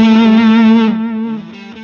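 Electric guitar groove played through an Xotic Effects volume pedal, a sustained distorted chord ringing loud and steady, then shifting into shorter choppy rhythmic notes as the level eases slightly, with no talking.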